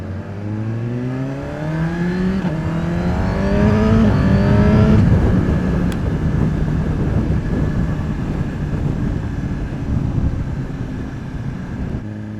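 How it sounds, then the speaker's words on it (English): A Suzuki GSX-R1000R sport motorcycle on its stock exhaust accelerates hard, its loud, close engine note climbing in pitch through several quick upshifts and then settling into a sustained high-speed drone. "Even with the stock exhaust, it sounds really good."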